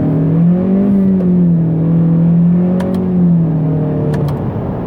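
A 2017 Honda Civic Hatchback Sport Touring with a CVT and paddle shifters revs loudly and close up, its engine note rising and falling smoothly in a continuous drone.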